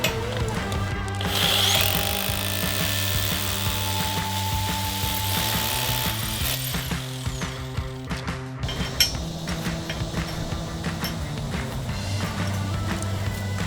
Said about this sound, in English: So let's drill our second hole here.